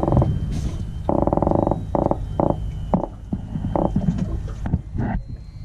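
Croaker fish just caught on a jig from a river, croaking in repeated short bursts of low, buzzing grunts, close and fairly loud over a steady outdoor background.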